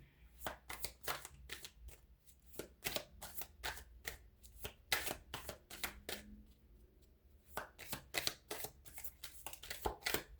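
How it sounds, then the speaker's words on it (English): Playing cards are shuffled repeatedly up close, a rapid series of crisp riffling bursts with short pauses between them. "All right, let me shuffle."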